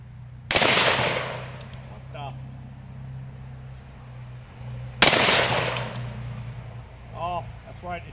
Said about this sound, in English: Ruger Black Alt, 44 mag.